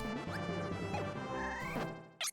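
Kirby's Crash ability in Kirby Super Star detonates with a loud, booming smash that rings with crackling, layered tones before cutting off, and a short bright sound effect follows at the end.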